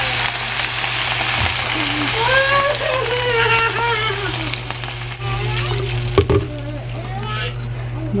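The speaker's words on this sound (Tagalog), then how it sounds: "Butangan na siya tubig." Water poured into a cooking pot during home cooking, a steady splashing pour running under nearby talk and a voice, with a brief clatter near the end.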